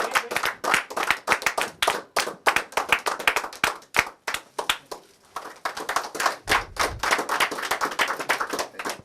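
An audience claps loudly and steadily for Tejal Ben at a Sampark Samaj calendar launch event for 2022, dense applause filling the room almost without a break.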